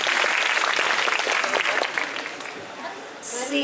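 An audience at a talk with students claps in a loud, steady burst of applause that gradually thins and fades toward the end.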